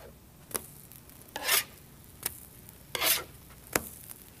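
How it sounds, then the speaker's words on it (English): Pancakes shaped for kids are flipped with a spatula on a griddle, giving several quick scraping clicks and a couple of brief sizzling swishes spaced across a quiet background, with no talking. "we're ready to flip the pancakes"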